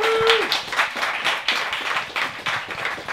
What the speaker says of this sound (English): Clap till he gets here